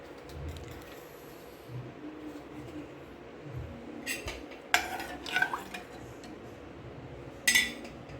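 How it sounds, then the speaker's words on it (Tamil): Semolina kesari is stirred in a pot with ghee, cashews, colour powder and water, giving soft scraping under a steady low kitchen background, with a few sharper metallic clinks of the utensil against the pot near the end. "ரவையை போட்டு கிண்டிக்கலாம்"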